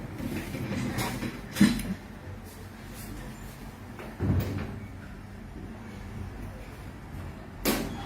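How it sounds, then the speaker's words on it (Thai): A door closes in a quiet indoor room, giving a few dull thumps spaced several seconds apart over a low, steady background hum. "ปิดประตูกัน"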